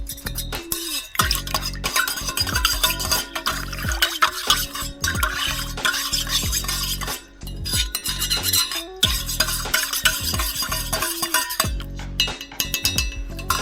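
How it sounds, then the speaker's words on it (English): Raspberry wine must stirred in a pot, with repeated scraping, clinking strokes of a utensil against the metal, loud and close, in uneven bursts with brief pauses. "Good old mixing."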